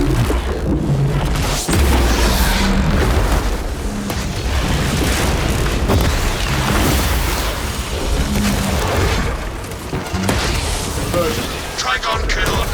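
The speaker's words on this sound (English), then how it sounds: "Placing melter bomb." A melter bomb detonates in the game Space Marine 2, a loud booming blast amid dense, continuous battle noise with other explosions and a game voice talking over the mix.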